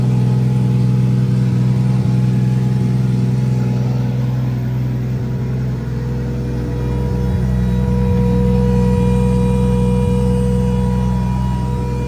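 A 1.5JZ engine in a drift car revs hard and loud on a dyno, holding a steady, dense roar throughout with no talk.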